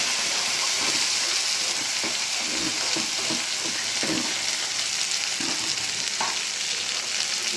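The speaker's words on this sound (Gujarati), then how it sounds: "હવે એમાં ભીંડો વઘાર્યો ને મેં" Okra dropped into a hot tempering of mustard seeds, asafoetida and garlic sizzles and crackles steadily, a dense close frying hiss with a few soft stirring knocks, no voices.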